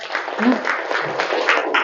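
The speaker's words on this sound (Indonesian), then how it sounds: "Tepuk tangan, Mbak" Brief applause in a classroom teaching session, a short patter of clapping mixed with voices, fairly close and steady over under two seconds.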